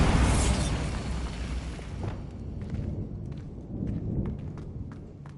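A Bombarda blasting spell explodes in Hogwarts Legacy with a loud, booming burst at the start, then the rumble fades into quieter scattered debris and clatter.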